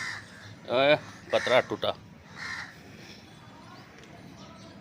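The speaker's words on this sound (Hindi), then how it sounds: "कौवे क्यों चिल्ला रहे हैं।" Crows cawing near a tree where a monkey is perched, a few harsh calls in short bursts, partly under excited talk from a man nearby.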